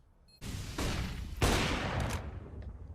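Rapid bursts of gunfire from a CS:GO grand final match between Liquid and FURIA, with loud overlapping shots starting abruptly and a second heavy burst partway through, continuing dense to the end.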